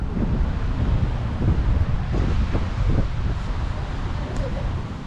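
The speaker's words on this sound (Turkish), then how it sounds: "Şimdi bugün biraz rüzgarlı." Gusty wind on a long beach on Phuket, Thailand, buffets the microphone with low, rumbling roars, steady and close, with faint surf and muffled voices underneath.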